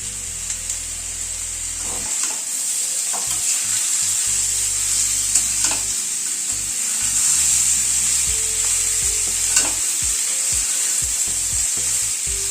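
Potato and pumpkin pieces fried with drumsticks in a pan, a continuous close sizzle of hot oil broken by repeated scraping and knocking of a spatula as the vegetables are stirred, with no voices.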